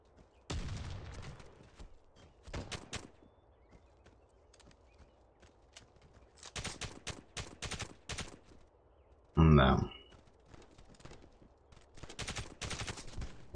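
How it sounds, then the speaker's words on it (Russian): Bursts of rapid gunfire in the mobile game Warface Mobile, several separate volleys spread across the clip with quiet gaps between, one loud sharp blast near the end. "Вытащил пистолет, выстрелил"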